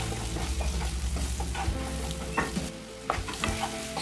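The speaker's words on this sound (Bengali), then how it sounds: "এবার ভেজে রাখা আলুগুলোকে এই মশলার মধ্যে দিয়ে খুব ভালোভাবে কষিয়ে নেব।" Fried potatoes being stirred and sautéed in a spice masala, close sizzling with repeated scraping and clattering of a spoon against the pan, plus a low background hum, and no talking.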